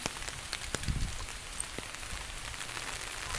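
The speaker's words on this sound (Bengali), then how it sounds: "এখনো বৃষ্টি পড়তেছে" Soft, steady patter of rain falling on a surface nearby, with a few sharper drips and taps.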